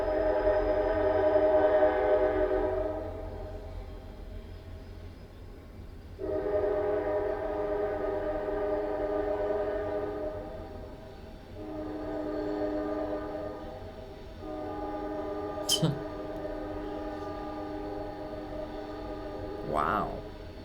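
A passing train blares a long horn in several sustained blasts separated by brief gaps, loud and somewhat distant, with low rumble beneath and a sharp click near the end.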